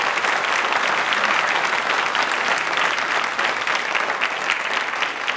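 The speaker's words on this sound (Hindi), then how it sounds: "तालियां प्लीज़ एक बार ज़ोरदार हो जाएंगे" A studio audience at a Hindi fortnight quiz programme breaks into loud, steady applause, a dense unbroken crackle of many hands clapping throughout the few seconds.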